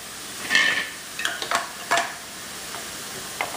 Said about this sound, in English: So on medium flame, the onions are cooking.